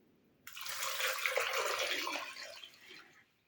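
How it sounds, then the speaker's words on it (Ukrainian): Water pours steadily into a pot of beets and potatoes for about three seconds, a close, even splashing rush that starts abruptly and tapers off. "Тепер я її заливаю водою."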